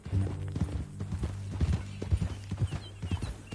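Horse hooves clip-clop in a steady walking rhythm in Red Dead Redemption 2, set in Blackwater, close and clear over a low musical drone, with a brief whinny-like sound mixed in.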